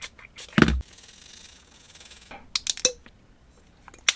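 Brief rubbing strokes from scrubbing the electrical contacts of a Sega Mark III HPD-200 paddle controller with isopropyl alcohol: a few quick, soft scrapes and taps, close up and faint.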